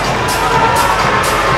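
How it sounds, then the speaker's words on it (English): A crowd at a Muay Thai fight cheers loudly and continuously, a dense roar of shouting voices with rising bursts, close and dominant throughout. "And a happy crowd."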